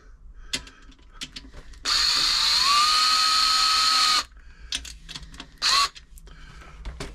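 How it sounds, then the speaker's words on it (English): An electric screwdriver whirs in a long sustained burst, then a short second burst, driving screws loosely into a Riccar 8400 sewing machine, with faint clicks of handling between and no talk. "We'll use the electric screwdriver for this one."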